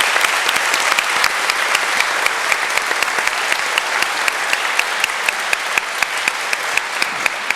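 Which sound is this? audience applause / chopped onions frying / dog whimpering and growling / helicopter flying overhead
audience applause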